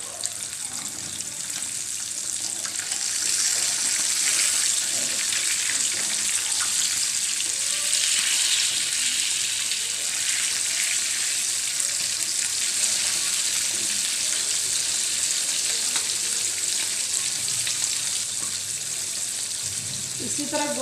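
Fish pieces frying on medium-low heat in a pan for fish karahi, a loud, steady hissing sizzle filling the whole stretch, with faint kitchen clatter beneath and no speech.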